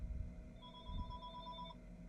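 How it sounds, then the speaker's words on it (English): A telephone ring tone in a Minecraft modded playthrough sounds as one steady electronic trill lasting about a second, fairly faint over a low background hum. "Phone ringing."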